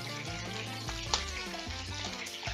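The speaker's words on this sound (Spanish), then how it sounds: "Eso es porque el aceite está muy caliente y el agua que tiene el langostino hace que explote." Prawns frying in very hot oil in a paella pan during a seafood paella cooking class, giving a steady close sizzle with a sharp spatter pop partway through, with tonal music running underneath.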